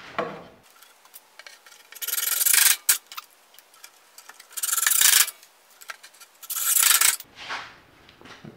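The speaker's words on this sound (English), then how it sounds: "I'm going to try and drive these screws backwards" Screws being driven into an electrical box, three bursts of harsh, grinding whir lasting under a second each, close and loud, separated by quieter handling clicks.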